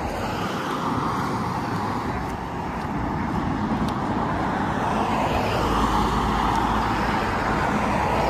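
Continuous road traffic beside a trail in the Pacific Northwest forest, a steady broadband roar of passing cars and trucks with no pauses, fairly loud and without talk.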